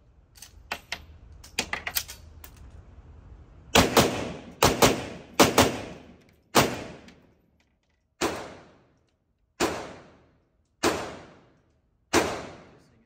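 A series of sharp gunshots rings out at a shooting range: scattered quicker reports at first, then about nine loud, evenly spaced shots, each with a short decaying echo and quiet gaps between.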